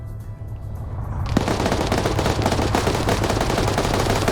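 Sustained automatic fire from a 240 Bravo machine gun in a military shooter game, a dense, rapid continuous burst that kicks in after a quieter opening and stays loud and close to the end.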